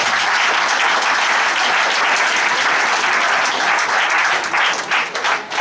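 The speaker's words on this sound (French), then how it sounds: "Est-ce qu'on peut acclamer le Seigneur pour ça?" A church congregation breaks into loud, sustained applause and cheering praising the Lord, a dense wash of clapping that holds steady throughout and dips slightly near the end.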